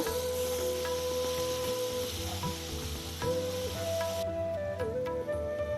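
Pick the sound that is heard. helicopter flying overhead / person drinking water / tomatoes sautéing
tomatoes sautéing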